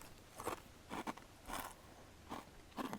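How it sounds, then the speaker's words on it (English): Corn nuggets from a military MRE being crunched, about five distinct bites or chews spaced irregularly, close and crisp against a quiet background, with no talking. "Let's try a couple of these corn nuggets first. Holy crunchy."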